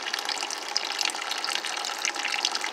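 A submerged pump circulates Barnacle Buster through a tub, giving a continuous close bubbling, gushing churn of liquid with no voices.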